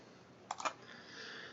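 A quick burst of three or four keyboard clicks, faint and close, over quiet background hiss.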